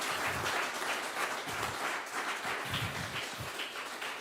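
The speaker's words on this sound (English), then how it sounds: "Give a hand, give a hand." Audience applause at a live International Jazz Day concert stream, a steady wash of many hands clapping at moderate distance that holds evenly throughout with no voices over it.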